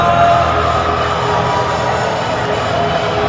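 Steady crowd murmur fills a gym at a high school district-tournament basketball game, a dense, even hum of many voices with faint cheers, heard without any announcer talking.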